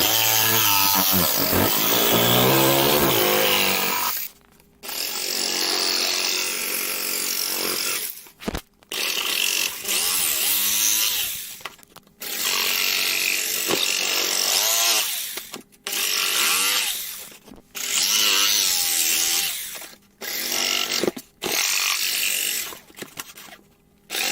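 A saber saw buzzes loudly cutting out an armor chest plate in long runs, stopping briefly several times before starting again, close up with no talking.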